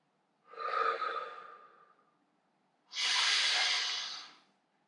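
Two slow, audible breaths during a leg and hip stretching routine: a softer exhale with a gentle tail, a pause, then a fuller, louder breath that holds steady before fading, close and alone without talk.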